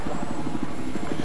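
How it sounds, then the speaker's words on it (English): Helicopter in the video game Battlefield 4, a loud, close, steady rotor thump pulsing rapidly over a low engine drone. "I've spotted a hostile helicopter due north of your position."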